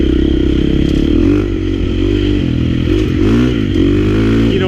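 A KTM 350 XC-F four-stroke dirt bike engine runs loud and close for the whole stretch, its steady throaty drone rising and falling with the throttle alongside brief rattling and clattering.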